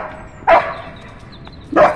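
Two yappy puppy barks, nearby and clear, separated by over a second of quiet background.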